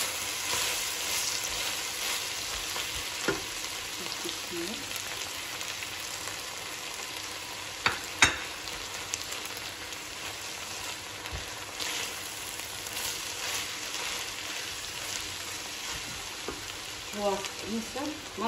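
Meat, onion, carrots and potatoes frying in a pan give a steady, close sizzle through the whole stretch, with a few soft clinks and stirring scrapes on top.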